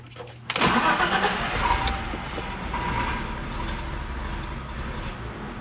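A 1987 BMW 325 E30 that had a no-start fault, cranking and then catching, its engine firing up abruptly and settling into a steady, moderately loud idle.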